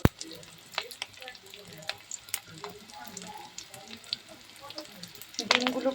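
Fish roe fritters crackle and sputter in hot oil, with sharp irregular pops over a soft sizzle and a louder burst of spitting near the end, close by.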